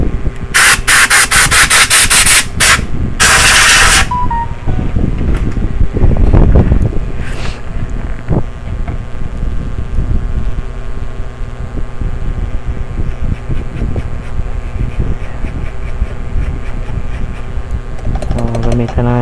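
An air blower blasting a Galax RTX 2060 6GB graphics card during cleaning, with sharp loud hissing bursts at the start, then a softer, rough airy rush with scraping and handling noise running throughout.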